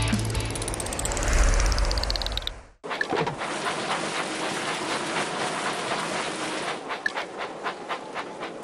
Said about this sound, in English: Clear the tracks. Engine coming.